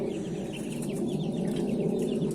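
Broiler chicks in a homemade cage keep up a dense, continuous chorus of high cheeping, close and moderately loud, with no talking.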